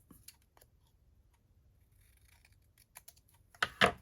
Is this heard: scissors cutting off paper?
yes